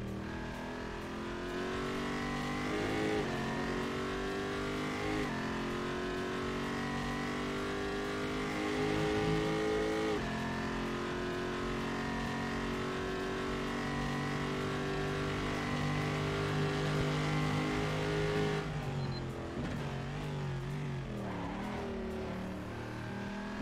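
A race car's engine drones steadily in the video game Assetto Corsa, tyres flat-spotted on all four wheels, its pitch climbing and falling through gear changes, close and continuous, ending in a rougher burst of revving.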